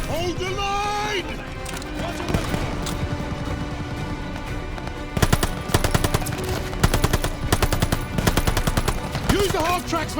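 Sustained machine gun fire in Call of Duty Vanguard, rattling in dense bursts over a constant battle din, growing louder and more rapid partway through, with shouted voices mixed in.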